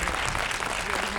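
Brief burst of dense audience applause welcoming guests at a film premiere in Orléans, loud and continuous throughout.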